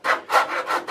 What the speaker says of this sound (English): I'm going to file just a little bit more